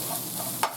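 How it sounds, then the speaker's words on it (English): Onions and ground beef sauté in a nearly oil-free pan, giving a steady soft sizzle with a brief spatula scrape near the end. "I'm sauteing the onions so they get a little bit softer"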